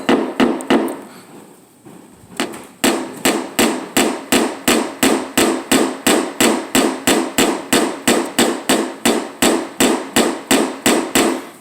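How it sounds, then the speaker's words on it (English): A blending hammer taps a dent in metal flat in a steady, rapid rhythm, dozens of sharp, loud, close strikes after a brief pause near the start. "at that point we get our hammer, blending hammer,"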